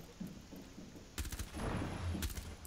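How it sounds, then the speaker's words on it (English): Gunfire in Rainbow Six Siege, heard indoors: after a quiet stretch, a loud burst of rapid shots breaks out, with short cracks and rattling reports close by and a second flurry near the end. "Is someone shooting in the projector room?"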